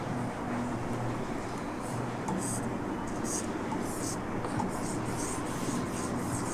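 Month names written by hand make soft, scratchy strokes in short spurts over a steady background hiss.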